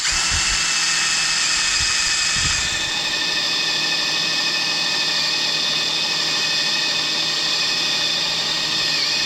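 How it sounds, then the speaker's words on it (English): A power drill whines steadily as it drills out a welded piece on a 1964-70 Ford Mustang during a coil-over install, a continuous high-pitched grinding into metal with a few low knocks near the start, loud and close. "And so I'm just gonna drill it out."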